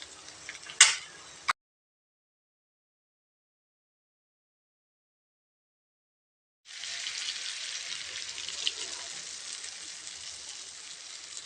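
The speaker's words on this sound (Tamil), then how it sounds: "இப்போ இந்த குழம்ப இதில் நாம் ஊற்றிக்கலாங்க." Mutton egg masala gravy poured into hot oil in a pan, a short clatter, then silence, followed by a steady, even hiss of sizzling that carries on close by with no voices.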